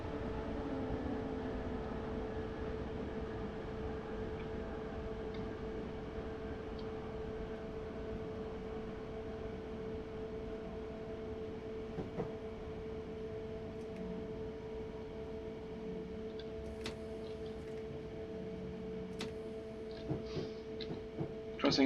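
Class 321 electric train crossing a junction onto the slow lines near Longbridge, Train Sim 2019: steady drone of motors and running gear, with occasional rattles and clunks near the end.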